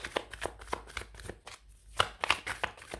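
Tarot cards are cut and riffled by hand, a run of quick crisp card flicks in a regular rhythm with a brief pause midway, close and fairly soft, with no talking.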